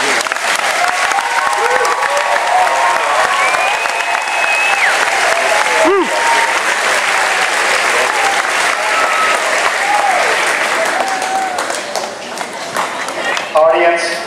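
An indoor crowd at an eighth-grade graduation ceremony breaks into sustained, dense applause for the graduates, loud and continuous, with a few scattered cheers, tapering slightly near the end.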